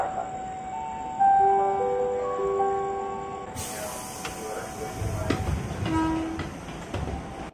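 A Jakarta commuter line train at Kemayoran station prepares to depart, with a steady tonal hum and whine that gives way to broader rumbling and clanks as it gets moving, fairly loud and close, with a little talk in the background.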